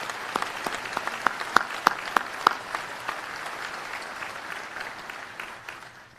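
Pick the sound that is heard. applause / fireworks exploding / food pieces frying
applause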